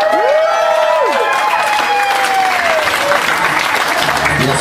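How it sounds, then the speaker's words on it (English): Loud, sustained applause from an audience at an evening celebration with speeches, steady dense clapping throughout with some cheering and voices mixed in. "once again, big round of applause"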